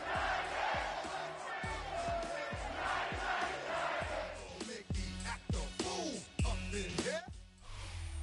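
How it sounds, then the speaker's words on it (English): A football crowd at Nissan Stadium in Nashville on a rainy day roars and chants, a loud, massed wall of voices with rhythmic shouts that swells and dips throughout. "A great crowd on hand to battle the raindrops at Nissan Stadium in Nashville."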